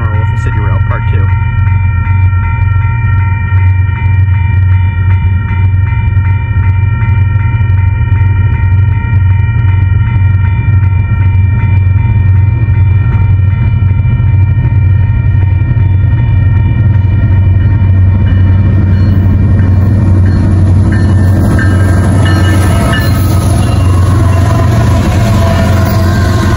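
Eastbound freight train on the Gila Subdivision rolling steadily past, a loud continuous low rumble and throb of engines and rolling cars that holds the whole time, with a voice speaking over it.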